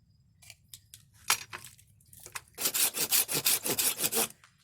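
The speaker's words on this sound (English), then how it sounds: "time to cut off the dirty ends and see what she holds inside." Fatwood, resin-soaked pine found on the ground in Michigan, being hand-sawn to cut off its dirty ends: a few scattered scrapes, then a steady run of rhythmic, close saw strokes before it stops.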